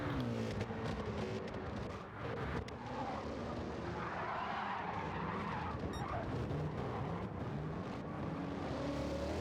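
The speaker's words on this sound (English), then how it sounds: "These guys slipping and sliding these heavy cars around this tight racetrack" Heavy race cars slide around a tight racetrack in a racing video game, tires skidding and engines roaring continuously, loud and close with a brief dip midway.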